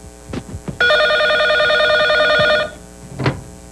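An indoor telephone gives one long, steady electronic ring lasting about two seconds, with a few soft knocks and rustles just before and after it.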